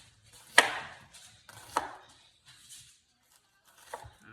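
A knife chops a whole onion into medium-thin strips on a board, three crisp, close cuts spaced a second or more apart, with quiet gaps between them.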